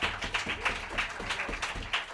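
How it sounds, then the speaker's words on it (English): Faint, steady clapping from an audience, a loose patter of hands heard at a distance. "Let's give this wonderful band a hand"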